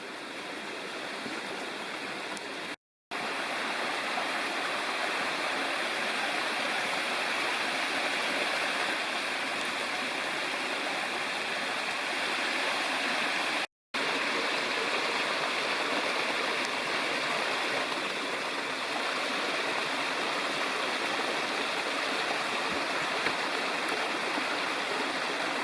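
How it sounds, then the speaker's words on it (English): Small waterfalls and cascades in a mountain stream in North Carolina wilderness rush with a steady, broad wash of water, continuous and fairly close, with two brief dropouts and no voices. "As we climb up toward Timber Ridge, there's lots of these small waterfalls or cascades."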